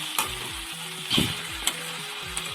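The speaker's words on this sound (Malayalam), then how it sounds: "കടച്ചക്കയും ഉള്ളിയും കൂടി നന്നായിട്ടൊന്ന് എണ്ണയിലൊന്ന് വാടി വരുന്നത് വരെ ഒന്ന് ഇളക്കാം." Breadfruit and onion frying in oil while being stirred, a steady sizzle broken by repeated scraping stirs of a spoon against the pan, close and alone.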